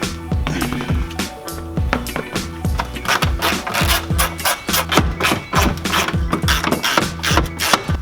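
A plastic trim piece is wrenched off a Lexus IS300 by hand after its bolts are removed, giving loud, close scraping, creaking and rubbing in quick repeated pulls.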